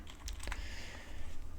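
A number is tapped out on a computer keyboard, a quick run of light, close clicking keystrokes over a faint low hum.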